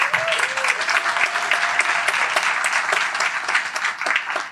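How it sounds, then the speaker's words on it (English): Audience at a Democratic State Committee meeting breaking into steady, dense applause, a continuous wash of many hands clapping close up for several seconds. "You can give yourselves applause for that."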